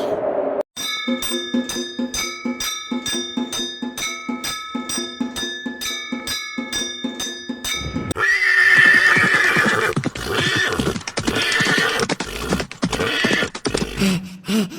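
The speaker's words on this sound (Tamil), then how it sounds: "குத்தீஸ்வரனோட வாகனமான குதிரை நம்மளை நோக்கி தான் வந்துட்டு இருக்குது" A cartoon horse approaches, steady rhythmic clip-clop hoofbeats with ringing bell-like tones repeating for several seconds, then a loud neigh and whinny with galloping noise that continues to the end.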